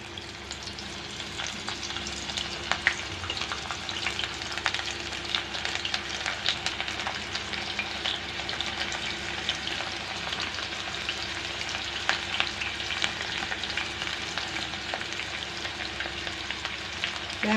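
Banana flower pakoda fries in hot oil over a medium flame, giving a steady, dense, close sizzle that carries on unbroken with only faint stirring scrapes and no voices.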